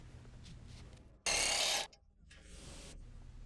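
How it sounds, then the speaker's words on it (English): An impact gun fitted with a 19mm deep socket takes off a tie rod nut on a 2008 Acura, giving one loud burst of rattling hammering of about half a second, set against quiet workshop background. "Now with your impact gun and your 19mm deep socket, remove the nut holding the tie rod on."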